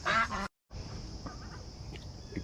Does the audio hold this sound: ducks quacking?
yes